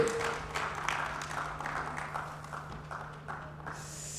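Audience applause greeting a panelist arriving on stage, a faint, steady patter of clapping from a modest crowd that thins out toward the end.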